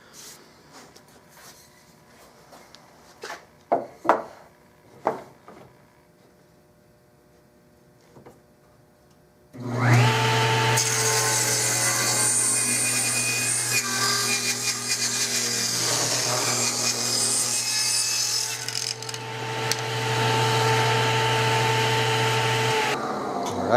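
A wooden forearm for a Winchester Model 21 shotgun is turned down on a lathe. Light tapping and handling noises come first, then a loud, steady machine whine and cutting roar starts and runs to the end, briefly changing pitch partway through.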